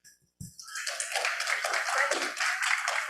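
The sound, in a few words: audience applause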